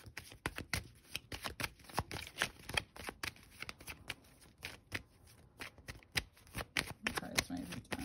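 Playing cards riffled and shuffled close up, a quick series of crisp flicks and bursts repeating steadily over several seconds, with occasional quiet voices in the background.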